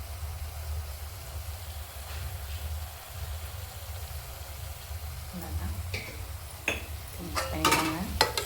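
Food is stirred in a pan over a low, rumbling sizzle, with scrapes and clinks of the utensil against the pan growing more frequent toward the end.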